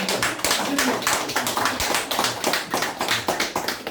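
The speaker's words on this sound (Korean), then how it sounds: "큰 박수로서 그 결정을" Clapping from a gathered clan association assembly in Seosan approving the election of a new chapter president, a dense, steady patter of hands filling the room with faint voices mixed in.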